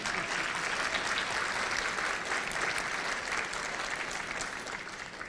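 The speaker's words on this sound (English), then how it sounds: "let's clap for that" Steady, full applause from a crowd at a scholarship awards ceremony, a continuous dense wash of clapping that holds at an even level throughout.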